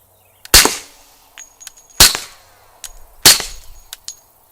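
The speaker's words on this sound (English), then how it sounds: "So we're going to shoot 45 ACP through the Primal." Three suppressed .45 ACP pistol shots from an FNX 45 Tactical fired through a Dead Air Primal suppressor crack sharply and evenly spaced at an outdoor range, each followed by a brief decay and faint clinks.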